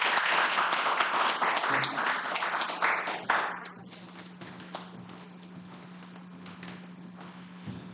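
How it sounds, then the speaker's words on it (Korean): Audience applause at a democracy forum, loud and dense for about three seconds, then thinning into scattered claps over a steady low hum with faint shuffling. "오늘 새로운 출범, 새로운 임원진에 또 함께 하신 분 큰 박수 부탁드리겠습니다"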